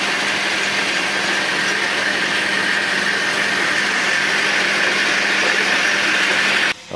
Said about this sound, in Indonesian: mesin amplas generasi kedua dari mesin rakitan